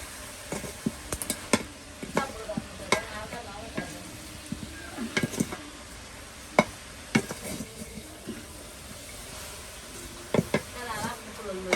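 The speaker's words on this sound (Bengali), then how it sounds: "শাকগুলো এবার ভাজে নিতেছি আমি।" Leafy greens fry and sizzle in a pan under a steady hiss, punctuated by irregular knocks and scrapes of a spatula stirring against the metal.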